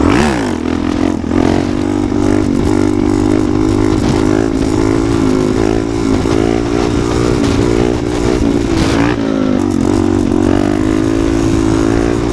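A motorcycle revs loud and close for wheelies, its engine droning steadily throughout with repeated rises and dips in pitch as the throttle works.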